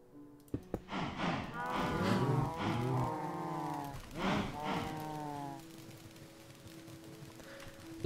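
Cows moo in the Minecraft video game, several drawn-out calls close together and fairly quiet, with a soft tone lingering afterward.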